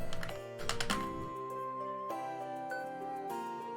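Keys clatter on a PC computer keyboard during Evoland 2 gameplay, a brisk burst of close typing at the start followed by sparser clicks over sustained game music and tones.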